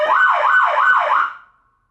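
A 5-ton military truck siren plays a second high-low pattern. Loud, rapid warbling pulses sound close by for about a second and a quarter, then cut off and fade to silence.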